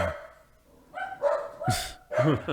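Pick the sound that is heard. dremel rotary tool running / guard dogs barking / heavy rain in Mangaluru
guard dogs barking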